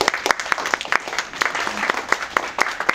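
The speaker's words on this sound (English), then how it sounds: "Let's give them a round of applause." Audience applause follows a design talk at a Django Boston evening meetup, with a sparse, uneven patter of individual claps at close range, not a dense roar, and no one speaking over it.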